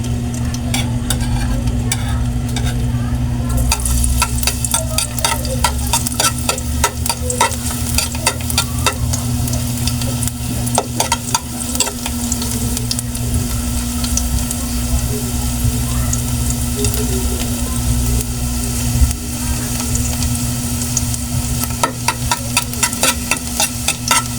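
Garlic fries in hot oil with a loud, dense crackling sizzle that continues steadily, close up and without talk, with a low background hum underneath.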